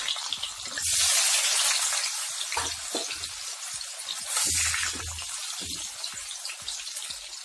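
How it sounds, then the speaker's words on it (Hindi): Elephant foot yam pieces frying in hot oil give a steady close sizzle and crackle that swells twice into louder bursts, with occasional low knocks from handling throughout. "लाइट ब्राउन फ्राई होने तक हम इसको फ्राई करेंगे।"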